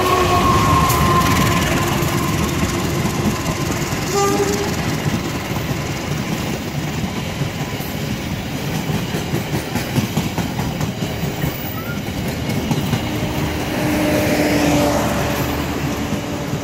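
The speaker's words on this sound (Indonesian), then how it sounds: "Dan ini ada kereta KRD" A KRD Bandung Raya diesel train rolls past close by, with a loud continuous rumble, rattling wagons and clickety-clack over the rail joints across the whole stretch.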